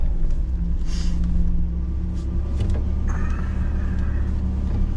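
1966 Mercedes 230S cruising, its engine a steady low rumble from inside the cabin, with a faint brief whir and light rattles over the continuous drone and no talk.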